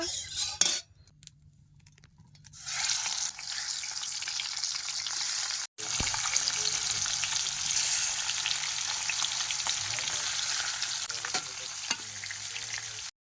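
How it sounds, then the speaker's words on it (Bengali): Pond fish frying in hot oil in a wok in a Sundarbans village kitchen: after a quiet start, a loud, dense sizzle takes over and continues, with occasional utensil clinks against the pan. "ওদিকে মাছ ভাজা হচ্ছে"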